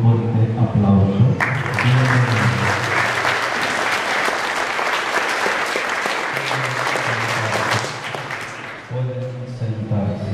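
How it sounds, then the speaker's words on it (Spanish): Church congregation applauding at a confirmation, loud, dense clapping filling the middle of the stretch, with speech before the clapping starts and again as it fades out. "Nos recibimos a los confirmandos con un fuerte aplauso."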